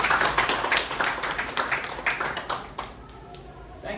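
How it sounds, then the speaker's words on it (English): An audience at a university lecture hall in Eldoret, Kenya claps in a dense, loud burst of applause that thins out and fades after about three seconds. "let us give a big round of applause to Dr."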